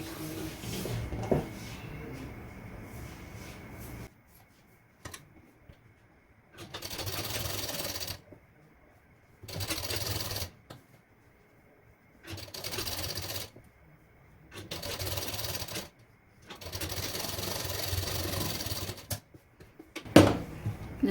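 A sewing machine stitches a princess-cut blouse, running in repeated bursts of about two seconds separated by short pauses, close and steady, with some handling noise early on.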